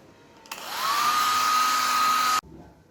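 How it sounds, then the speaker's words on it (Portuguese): A handheld hair dryer blows on a freshly painted craft piece with a marbled granite-effect finish. It switches on with a rising whine, holds a loud, steady airflow for about two seconds, then cuts off abruptly. "Vou dar uma acelerada na pintura, na secagem da pintura, né, com secador."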